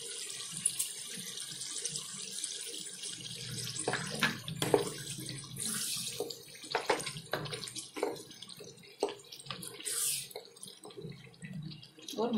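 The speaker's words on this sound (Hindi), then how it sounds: "अब हम टमाटर की ग्रेवी भी इसमें डाल देंगे।" Tomato gravy poured into a cooking pan for dhaba-style sev tomato sabzi gives a continuous, fairly faint, splashing liquid rush with scattered wet drips and clatters.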